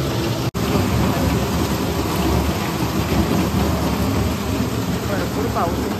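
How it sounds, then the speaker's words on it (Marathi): Heavy rain pours down in a loud, unbroken roar of hiss and patter, with no letup across the stretch. "भरपूर पाऊस आहे त्यामुळे आवाज पण भरपूर येतोय"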